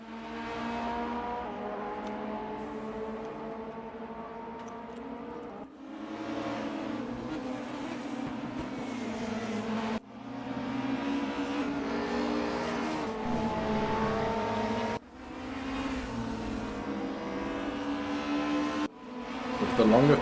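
Race cars roar around RR Raceway-Bridge in the simST sim racing game, engines droning steadily with rising and falling pitch as gears shift, under continuous commentary.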